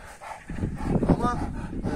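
Anatolian shepherd dogs barking at a cat, a short burst of deep barks and yips rising after a quiet start, close by, with people talking over them.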